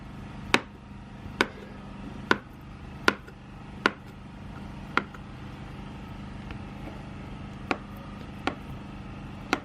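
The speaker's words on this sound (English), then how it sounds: "Now you cut your eggs in tiny bits." A knife chops boiled eggs into tiny bits on a board, about ten sharp, crisp taps at uneven intervals over a quiet background hum.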